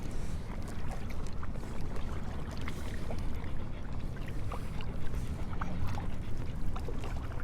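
Water laps and splashes steadily as a small boat is paddled toward Snake Island on a warm late afternoon, with light wind rumbling in the microphone and intermittent soft strokes and drips throughout.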